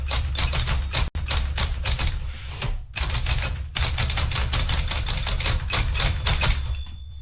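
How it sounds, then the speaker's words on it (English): Many old discarded typewriters played as percussion clatter rapidly in a dense, rhythmic racket like drumming, with brief pauses and a bell-like ping near the end. "It's like a crazy drum circle on these old discarded typewriters."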